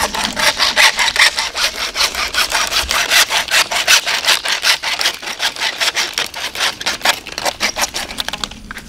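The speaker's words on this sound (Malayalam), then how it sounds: "ഇനിയിപ്പോൾ അതിൽ നിന്ന് നമ്മൾ കട്ട് ചെയ്തെടുക്കാൻ പോവാണ്." A handsaw cuts pipe into lengths for a fish trap, loud, close rasping strokes in a steady back-and-forth rhythm that runs almost without a break.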